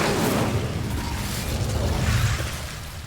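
Incendio fire spell cast against Devil's Snare in Hogwarts Legacy on Xbox Series X, a loud whooshing burst of flame that roars briefly and fades over a few seconds, with no voice over it.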